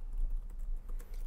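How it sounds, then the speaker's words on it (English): Code being typed on a computer keyboard, a quick, steady run of soft key clicks, close and fairly quiet, with no talking. "Let's type in this code right here."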